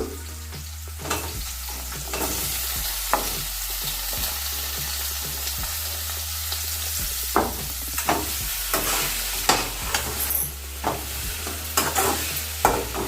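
Tomatoes being stirred into frying capsicum masala curry, with a loud steady sizzle of oil and repeated scraping strokes of a spatula against the pan, close and without talk.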